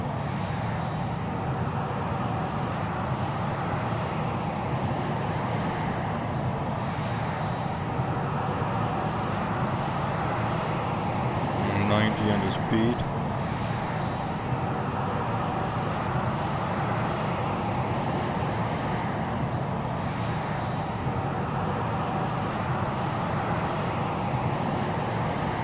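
An AV-8B Harrier jet engine in X-Plane 11 accelerates with a loud, steady, broadband roar that holds for the whole stretch, with no voices over it.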